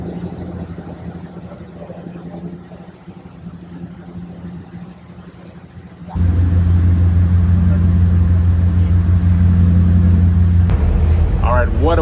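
A ferry's engines rumble with a steady low drone through a morning crossing, growing noticeably louder and heavier halfway through, with faint background chatter.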